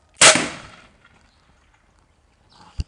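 An Alpha potato gun firing 3D printed ammo, a single sharp, loud pneumatic bang that decays quickly, followed by near silence and a brief faint knock at the end.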